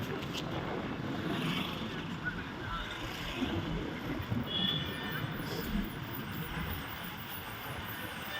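A train at Nagercoil railway station in India, rumbling with broadband rail noise and faint high wheel squeal throughout, with a busy station hubbub mixed in.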